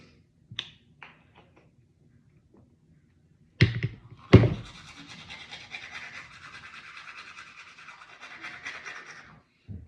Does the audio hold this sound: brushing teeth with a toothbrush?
yes